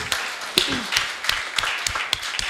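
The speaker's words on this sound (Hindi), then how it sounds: "एक बार उनके लिए ज़ोरदार तालियाँ।" An audience at a poetry recital gives scattered, uneven applause. Separate sharp claps sound at a moderate distance over a soft background murmur.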